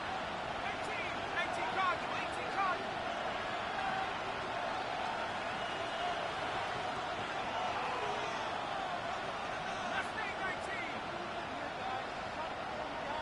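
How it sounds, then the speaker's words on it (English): Steady stadium crowd roar in an American football video game during a late third-down play, a dense continuous wash of distant cheering held at an even level under a commentator's voice. "This crowd into it now as we get to third down."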